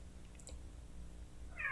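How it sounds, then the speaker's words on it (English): A house cat gives a short, fairly faint meow indoors, brief and isolated against a low background hum. "Sorry, that's the cat."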